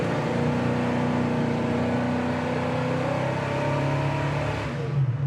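A 1970 Chevrolet Chevelle SS accelerates hard with a steady, loud, close engine roar that holds for several seconds before easing slightly at the end.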